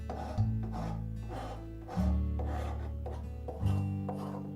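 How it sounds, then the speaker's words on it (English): Three slow, deliberate strokes of a wood rasp work across the grain of a wooden mallet blank, each a close, coarse rubbing scrape with short pauses between. "I will use a rasp across the grain and keep it rounding so that it will actually smooth out the surface"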